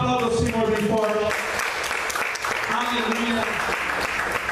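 A church congregation claps loudly during an evangelist's sermon, a steady wash of hands under a raised voice and some singing or shouting in the room.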